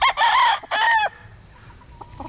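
A pure white Kelso gamecock rooster crows loudly in two close strained calls, followed by quieter soft clucks in a calm outdoor setting.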